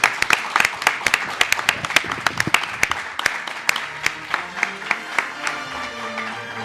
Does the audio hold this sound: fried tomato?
no